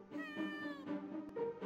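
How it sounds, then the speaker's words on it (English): A cat meows twice, a long drawn-out yowl followed by a shorter mew, fairly close and clear with no talk over it. "Sounds like cat meowing."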